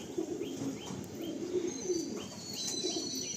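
Pigeon cooing from adult loft pigeons, a paired male and female, in soft repeated low coos over a steady background with faint chirps.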